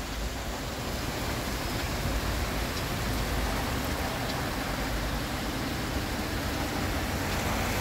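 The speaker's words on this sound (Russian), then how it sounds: "Звуки слышите? Звуки дождя." Heavy rain pouring down in Lviv, a dense, steady broadband roar of downpour lasting throughout with no letup and no voices.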